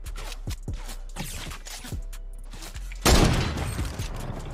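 Fortnite gunfire crackles in a rapid series of sharp shots, followed by a louder, heavier blast that fades out slowly.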